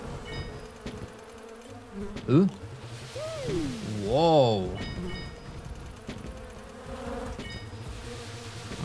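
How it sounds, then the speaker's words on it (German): Buzzing of a bee swarm in a video game, a droning insect hum that swells and wavers in pitch, under a man's brief exclamation and game sounds. "Bienenschwarm Nummer 1"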